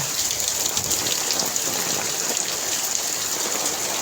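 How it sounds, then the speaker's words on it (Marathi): Steady rain falls along a road leading to a market, forming a dense continuous hiss with scattered close drops, loud and unbroken throughout with no voices. "पाऊस चालू आहे"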